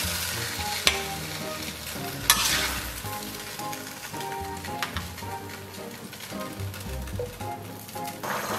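Bok choy stir-fries in a wok with garlic slices, soy sauce and salt, giving a steady crackling sizzle with scraping stirring strokes and occasional sharp clanks of the utensil.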